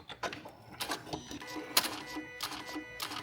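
A Janome M7 sewing machine stitches through several layers of fabric, giving off a close mechanical whir in uneven bursts that rise and fall with the stitching, with faint ticks between runs.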